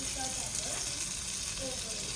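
Onion and garlic mixture sizzling in a skillet, a steady close frying hiss with faint stirring scrapes throughout.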